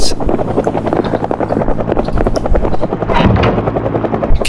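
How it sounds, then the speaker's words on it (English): In the Project Zomboid video game, a helicopter passes overhead with a loud, steady rotor thump that fills the whole stretch. "I just don't like the fucking helicopter noise."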